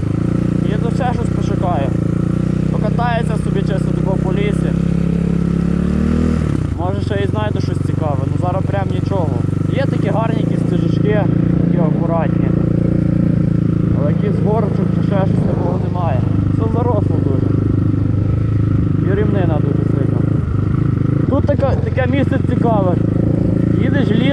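A BSE 250 enduro motorcycle ridden along forest trails past a cornfield, its engine droning steadily with rising and falling revs throughout, while someone talks over it for most of the ride.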